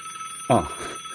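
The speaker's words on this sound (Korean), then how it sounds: "잠깐만. 내 전화 좀 받고." A telephone rings once indoors in a short, bright burst that rises sharply from a quiet room and fades within a fraction of a second.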